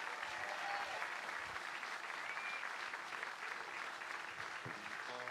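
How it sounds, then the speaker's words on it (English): Sustained applause from a contest finals audience for the finalists, steady and dense with a loud wash of clapping throughout and no clear pauses. "Give them a round of applause before we start tonight."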